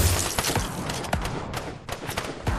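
Video game gunfire in Fortnite: rapid bursts of shots and thuds crackle loudly in irregular clusters over a short stretch, with no talking.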